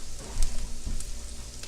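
A homemade hot pocket sizzles and crackles in a hot frying pan, a steady close hiss with a few soft bumps as it settles.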